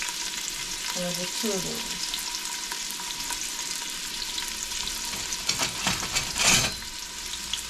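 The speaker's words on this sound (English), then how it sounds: "I'm gonna start getting a little fry on these" Pimento and very pepper sizzle and fry in a pot of beef stew, a steady close crackle with a few louder stirring scrapes near the end and a brief spoken voice over it.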